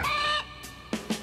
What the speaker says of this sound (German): ich verabschiede mich mal jetzt von den Hühnern